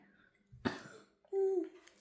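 A child's single sharp cough bursts out, followed moments later by a short voiced sound, close and fairly clear against a quiet room.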